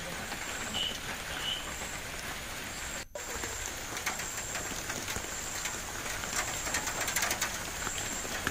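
Heavy rain pours steadily during a storm in Palakkad, Kerala, a dense continuous hiss of drops on surfaces throughout, with a faint bird call in the background and a brief dropout partway through.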